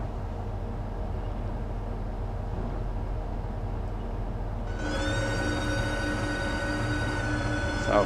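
An Azuma train in Train Simulator Classic rumbles steadily on a snowy run out of Peterborough toward London, with a low engine drone joined midway by a rising, sustained tonal whine, and no voices.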